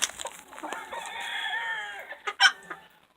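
A pet chicken clucks and calls in a short series of close, bright vocalizations, rising to a sharper squawk near the end.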